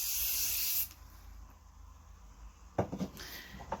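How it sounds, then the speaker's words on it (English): A hair spray is aimed at curls, giving one loud, close, continuous hiss that lasts almost a second before stopping, followed by faint rustling and brushing sounds. "losing everything, you can just give that a little spray"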